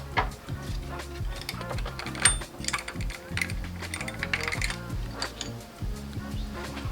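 A metal gear is pulled off a shaft inside a DQ500 gearbox during a limited-slip differential install, giving close, irregular metallic clinks, ticks and scraping clatter.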